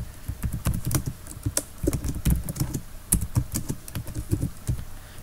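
Steady fast typing on a computer keyboard, close up, with an even run of key clicks and no talking.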